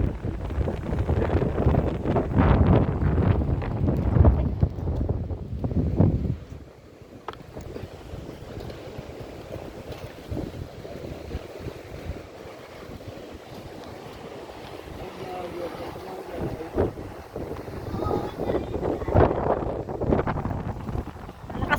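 Strong high-tide waves surge against the Calamba baywalk in Laguna under drizzly, windy conditions, a loud roaring wash with heavy wind buffeting the microphone that eases to a softer churn midway before building again.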